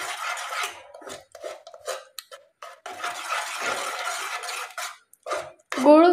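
A spoon scrapes and clinks against a pot as jaggery is stirred into wheat kheer. The short, irregular strokes are close by, with brief pauses between them.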